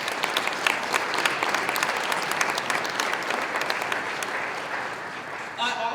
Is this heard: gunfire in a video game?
no